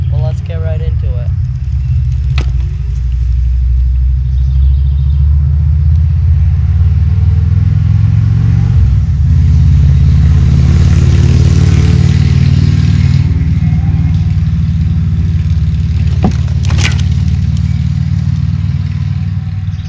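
Bike riding up to and landing a jump on a backyard dirt track, with a steady low engine rumble rising and falling throughout, a brief sharp impact near the middle, and voices nearby.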